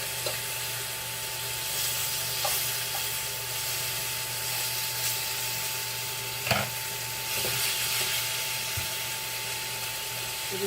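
Lemon chicken browns in a pan with a steady, even sizzle and hiss. Faint pops and clicks come through now and then, and there is no speech.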